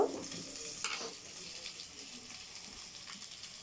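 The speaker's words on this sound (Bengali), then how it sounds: "এখন আমরা পেঁয়াজ ছাড়ছি" Two large onions dropped into a pan of oil just used for frying fish, a faint hissing sizzle with a brief stir near the start, quiet and short with no speech.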